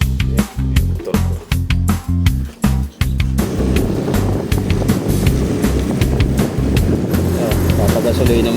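A motorcycle riding through city traffic in the Philippines, its engine running loud and close with steady rumbling and wind buffeting the microphone, choppy surges at first, then a continuous drone.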